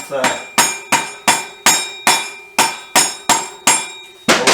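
A small rubber mallet taps an alloy wheel spindle on a BSA B50T motorcycle, about ten close, evenly spaced thuds in a steady rhythm with no talk.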